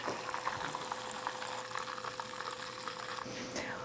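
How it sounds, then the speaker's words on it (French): Large shrimp frying in hot oil, stirred gently, giving a steady, dense bubbling sizzle that runs evenly throughout with a faint low hum beneath. "Vous la brassez délicatement dans l'huile jusqu'à temps que ça forme une petite carapace."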